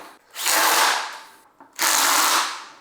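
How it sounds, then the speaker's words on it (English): A Ryobi impact driver fitted with a hex bit spins out motor bolts in two loud, close bursts, each lasting about a second with a short pause between them. "I got a set of hex bits for my Ryobi impact driver."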